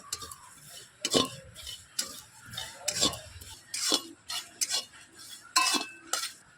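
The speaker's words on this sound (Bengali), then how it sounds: "হালকা হাতে নাড়াচাড়া করে" Repeated metallic scraping and clinking of a spatula against a pan while dry red chillies, cumin and fennel dry-roast, in uneven strokes roughly every half second, close and fairly clear.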